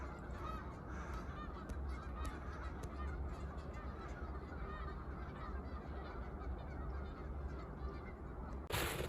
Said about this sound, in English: Those geese over in that field suddenly got loud.